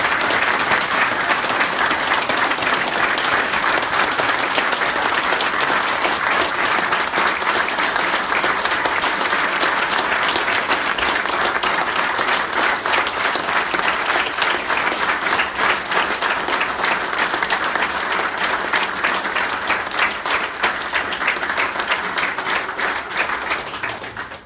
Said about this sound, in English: I want you to give them both a huge round of applause.